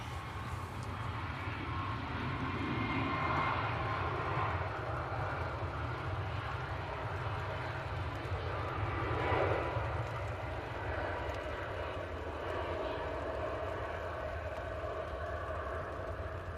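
An airliner arriving at Manchester Airport rumbles at a distance with a broad, steady engine roar that swells gently and holds for many seconds, with no talking.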